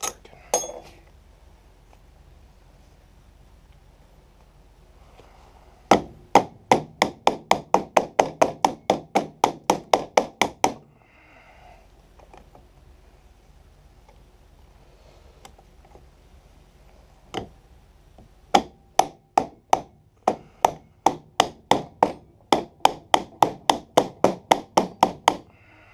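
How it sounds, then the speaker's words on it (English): A dead blow hammer strikes a power steering pulley on a 2004 Jeep Grand Cherokee in two long, rapid runs of sharp, loud knocks, separated by a quiet pause with a few scattered taps. "Cracked my pulley because my dead blow's broken. Hit that edge."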